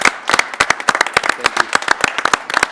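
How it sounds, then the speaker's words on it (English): A board of education meeting audience claps in a round of applause for Kevin and Haley, a burst of sharp hand claps of mixed density lasting throughout, fairly close and loud in an indoor meeting room. "if we could all give Kevin and Haley a round of applause of our appreciation for their service"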